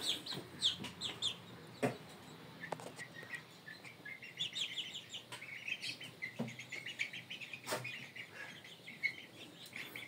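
Indio gigante chicks cluck and chirp in short, overlapping bursts against a steady outdoor background, with a few sharper calls standing out.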